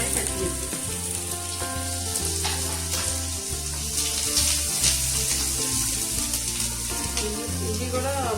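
Prawns frying in a pan for a ridge gourd and prawn dish, with a loud continuous sizzle and spatter heard close up, along with a low steady hum and no talk.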